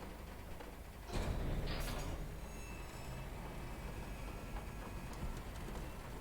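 A loud grinding crane mechanism in the video game Disco Elysium starts abruptly and then settles into a steady, rumbling mechanical drone with scraping overtones that runs unbroken to the end.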